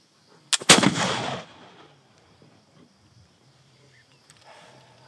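An 18th-century flintlock pistol fires a single loud, sharp report close by, with a brief crackle and a short echo that fades into quiet outdoor ambience.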